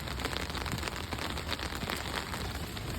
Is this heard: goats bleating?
no